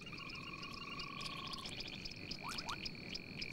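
Frogs calling at an African oasis, shovel-nosed frogs mentioned, a chorus of faint trilling calls and short pulsed croaks over steady insect-like tones and background noise, with no voices.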